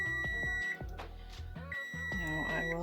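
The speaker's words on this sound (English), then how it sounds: "Well, the timer is about to go off again." A kitchen timer beeps repeatedly in steady electronic bursts while raisin scones bake in the oven, sounding close and fairly loud with a low hum underneath.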